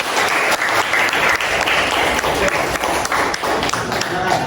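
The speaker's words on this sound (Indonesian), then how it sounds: "Ya, kita kasih aplaus kepada kelompok 1." An audience claps for a presenting student group, producing dense, steady applause that fills the whole stretch at a fairly loud level.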